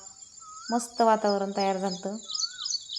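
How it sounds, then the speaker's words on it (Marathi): Two clear whistled bird calls ring out on a village morning, one before and one after someone speaks in the foreground, over a faint high background chirr. "पक्ष्यांचा आवाज किलबिलाट कोकिळेचा आवाज"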